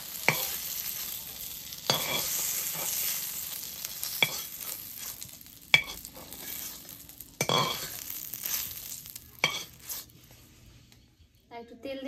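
Eggplant slices fry in oil, giving a sizzling hiss broken by repeated bursts of stirring and scraping of a utensil in the pan, with short quieter pauses before it fades near the end.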